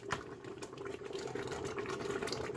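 Spiced pineapple jam boils hard in a pot on the stove, a steady thick bubbling with small spits and pops throughout, close and moderately loud.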